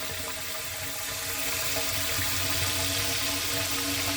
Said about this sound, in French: un petit arrosage qu'on va faire ici directement dans le tuyau que nous avons réalisé